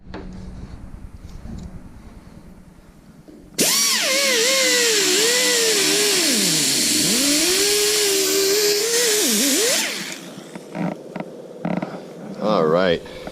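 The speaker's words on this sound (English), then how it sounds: "I'll do this with the die grinder, and then I'll use the file again" A die grinder smoothing lead filler on a car body: after a quiet start, a loud, close, high whine runs steadily for several seconds, its pitch dipping and rising under load, then cuts off, followed by light clatter.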